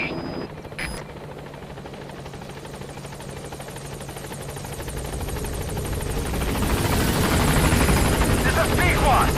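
The support helicopter in Metal Gear Solid V comes in to land at the landing zone, its rotor throb swelling steadily louder over several seconds after a short radio voice.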